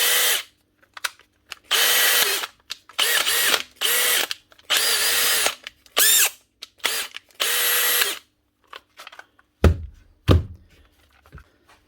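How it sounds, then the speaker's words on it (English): Makita DHP485 cordless drill, a 2020 machine on its third chuck, whirring in about eight short, loud bursts separated by pauses, followed by a couple of close knocks and thunks near the end. "One Makita cordless drill, DHP485, 2020 machine with its third chuck."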